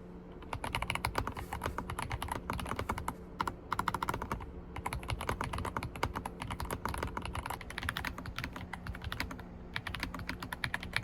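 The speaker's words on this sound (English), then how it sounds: "All right, here's the keyboard test." Steady rapid typing on a Surmen mechanical keyboard with white switches, close and clear, dense clacky keystrokes with a couple of short pauses, no voices.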